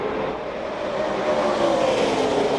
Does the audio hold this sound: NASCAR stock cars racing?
yes